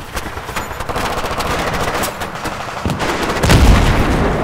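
Rapid machine-gun bursts and scattered gunshots crackle through a Battlefield 3 campaign ambush from the trees, dense and continuous, with a heavier boom rising near the end.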